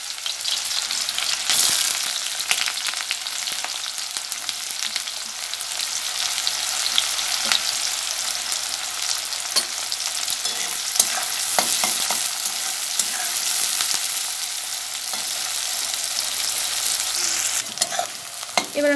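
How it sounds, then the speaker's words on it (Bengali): Onions dropped into hot oil in a pan crackle and sizzle loudly and steadily, with scattered scrapes and taps of a stirring spoon running throughout. "পেঁয়াজগুলো আমি ছাড়বো তেলের মধ্যে।"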